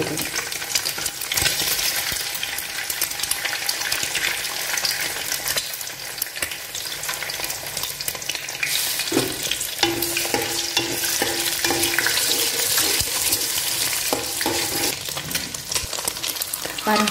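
Two beaten eggs fry with garlic in a hot pan for egg veg noodles, a loud steady sizzle with stirring and scraping of a utensil against the pan throughout.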